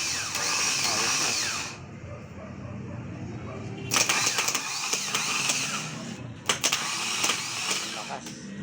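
A repaired starter motor run on test spins up in loud whirring bursts with abrupt stops and restarts, a close high-pitched electric whine, with people talking in between.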